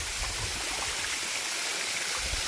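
Water of the Kremiotis waterfall and its stream rushing steadily, a close, continuous broadband hiss and splash with no voices, fairly quiet overall.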